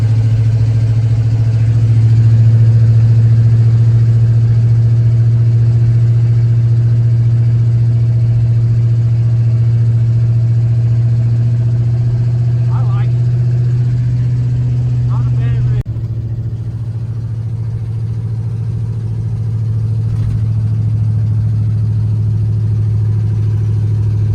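A rebuilt K5 Blazer drives down the road, its engine a loud, steady low drone heard from inside the cab, with slight shifts in pitch and a brief dip partway through.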